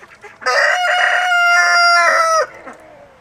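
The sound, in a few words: chickens on a farm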